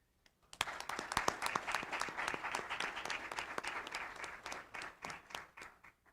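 Applause from a conference audience at Hampton University, honoring the university's president; steady clapping from a modest crowd starts after a brief pause, holds for several seconds, then thins out near the end.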